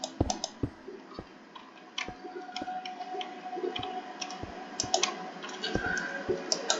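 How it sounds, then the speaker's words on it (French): Sharp computer keyboard and mouse clicks come in an irregular series of close, crisp taps while building a volcano in Minecraft, alone with no speech. "Pas encore habitué au clavier, clavier souris"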